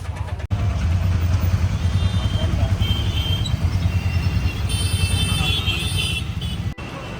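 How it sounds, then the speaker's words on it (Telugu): An auto rickshaw ride in Hyderabad: a loud, close engine drone and rattle runs throughout with passing traffic around it, and a sharp thump near the start and end. "సో ఇదే ఆటో, వెళ్ళిపోతాం."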